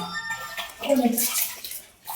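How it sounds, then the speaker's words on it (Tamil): Running water while food is washed for the third time, a splashing tap flow that swells briefly in the middle, with faint voices around it. "இது 3வது வாட்டி கழுவுறேன் மக்களே."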